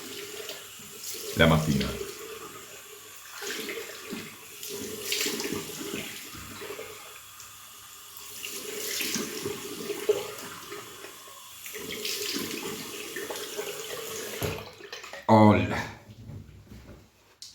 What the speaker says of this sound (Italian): E ora ci metto un filino d'acqua